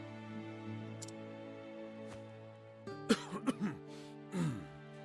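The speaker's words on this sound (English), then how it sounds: "Cough." An elderly archbishop in the video game Octopath Traveler gives a short run of rough coughs, four or five sharp bursts and then a longer one, over a steady sustained music bed.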